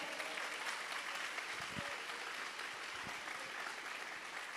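Soft applause from a church congregation, a continuous hiss of clapping at low level with a few scattered louder claps, no voices on top.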